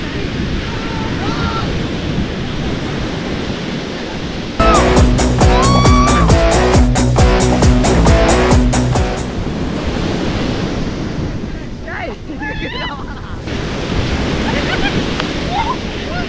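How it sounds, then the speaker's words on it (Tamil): Sea waves crash and wash steadily on Pondicherry beach, a loud continuous roar of surf mixed with wind buffeting the microphone, briefly overlaid by a music-like tonal passage. "அலை தான் அடிக்கும் நிறையா"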